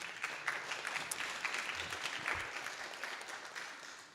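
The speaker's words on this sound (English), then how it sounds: "I think it's worth a big applause." An audience at a workshop claps steadily and evenly, a fairly faint, sustained applause heard from within the room.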